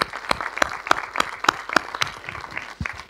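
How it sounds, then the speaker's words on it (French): A small audience at a film-industry talk on real-time production gives light, scattered applause, with distinct individual claps spaced across a few seconds. "On peut l'applaudir."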